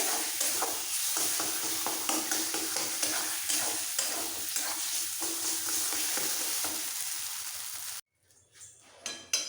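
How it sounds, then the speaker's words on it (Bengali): Potatoes and flat beans stir-fried with spices in a pan give a steady, close sizzle broken by frequent scraping strokes of a spatula. The frying stops abruptly near the end, leaving a few quiet knocks. "মশলার সাথে আলু আর শিম একসাথে কষিয়ে নেবো"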